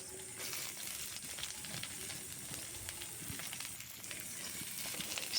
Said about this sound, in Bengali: আমি একসঙ্গেই নেড়ে নেব, ভালো করে ভেজে নিয়ে